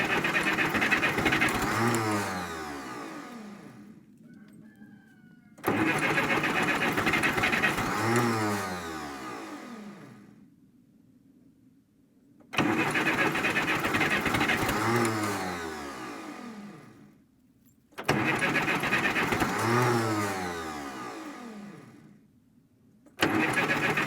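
Repeated cold-weather attempts to start a car engine with a weak battery: four long bursts of cranking that catch and run briefly, each loud and close, separated by short quiet gaps, with no talk.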